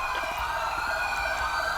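An ambulance siren in the video game GTA 5 wails steadily and continuously, fairly loud and unbroken throughout the short stretch.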